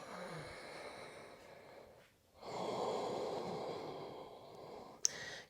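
Slow, deep breathing during a yoga sun salutation, close and soft: a long exhale, a short pause, then a fuller breath with a brief sharp click at the end.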